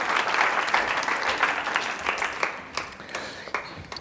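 Audience applause at an evening talk event on hypnosis, a dense burst of clapping that starts full and gradually thins out into scattered, separate claps by the end.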